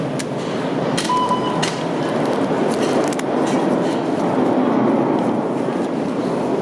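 An eastbound subway train rumbles into a Toronto station with a broad, steady roar, punctuated by sharp metallic clicks and a short squeal, no voices.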